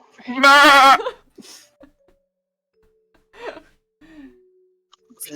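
A single loud goat bleat, wavering and nasal, rings out near at the start, followed by faint scattered sounds and quiet breaths in an otherwise still setting.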